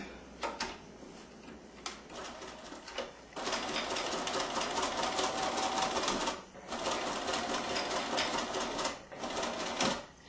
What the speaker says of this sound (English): I am going to sew over what I've already done a little bit